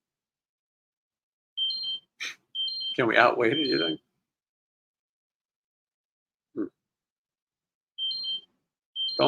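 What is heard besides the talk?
alarm going off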